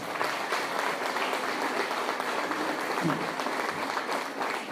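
Sustained applause from a church congregation in Guanajuato, Mexico: dense, steady clapping from many hands throughout, loud and even with a broad crowd wash and no break.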